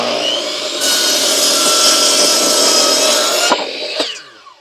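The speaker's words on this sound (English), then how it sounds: "using a miter saw has always been the easiest for me" A miter saw cuts through a wooden board in a workshop: a loud, close whine spins up and holds for about three seconds, then stops with a couple of knocks as the blade winds down.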